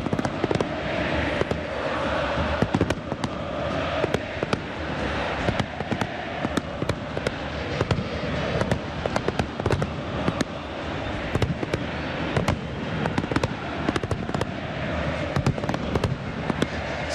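A dense night fireworks display before a Boca Juniors versus River Plate summer tournament football match, with crackles and sharp bangs bursting constantly over a loud roar, heard without pause from fairly close.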